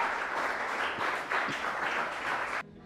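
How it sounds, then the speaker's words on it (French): Audience applause at a French-speaking event, the Genie Milenyal 2023 show, sounds as a dense, fairly loud wash of clapping that cuts off abruptly near the end. "On applaudit"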